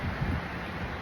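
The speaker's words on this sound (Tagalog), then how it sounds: "Lakas kasi ng hangin eh." Strong, cold north wind buffeting the microphone on a rainy day in Canada, a steady broadband roar with low gusty rumbles and no voices.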